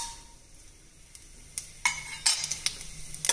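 Fennel seeds, cinnamon, cloves and cardamom sizzle softly in oil in a pan for tomato rice, with a few sharp crackles and spatters and the clink of a utensil stirring, fairly close and unvoiced.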